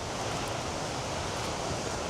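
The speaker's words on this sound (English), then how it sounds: "I can hear some water flowing as well" River water rushes steadily near a rain-swollen waterfall, a constant, fairly faint broadband roar with no breaks and no voices over it.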